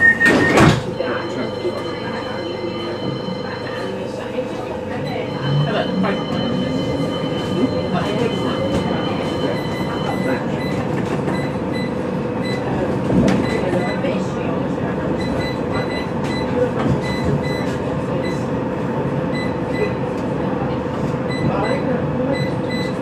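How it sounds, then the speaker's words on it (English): Birmingham tram pulling away from Corporation Street stop on rails, a steady close rumble and hum with a brief door or brake clatter at the start and a faint wheel squeal later. "Please hold tight. This tram is about to depart."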